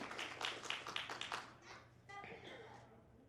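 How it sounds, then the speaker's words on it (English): An audience at a cosplay competition show gives a short burst of scattered clapping that fades within about two seconds, with light talk and background noise continuing after. "Give a big round of applause for our beginner cosplay competitor"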